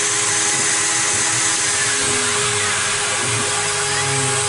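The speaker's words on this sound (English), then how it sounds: "Cutting now with Hoover and router, doors closed." A Stepcraft CNC router cuts while a Hoover vacuum runs in an enclosure with its doors closed. Both make a loud, continuous, dense whine and roar, steady throughout with no pauses.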